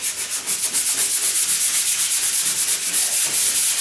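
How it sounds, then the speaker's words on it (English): Steady hand sanding on a wooden door, a continuous raspy rubbing with a quick back-and-forth rhythm, close and loud. "but as I'm sanding,"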